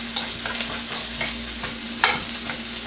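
Spanish onions and chopped garlic stirred in a hot pan for red snapper sarciado, a steady close sizzle broken by scraping spatula strokes and a sharper clatter near the end.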